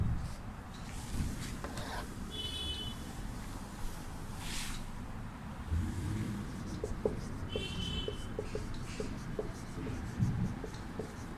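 Pen writing an exercise heading in a Hindi class, close scratchy strokes and small taps steady throughout against a faint room background.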